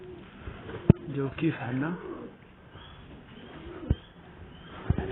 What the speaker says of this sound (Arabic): راح نطالع الحمام هلا الساعة 2